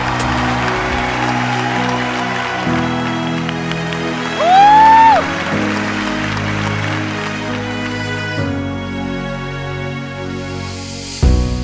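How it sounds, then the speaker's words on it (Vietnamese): A studio audience at a Vietnamese television dating show applauds, the clapping running steadily under loud music with sustained tones and a brief rising swell partway through. "Thưa quý vị, một tràng vỗ tay"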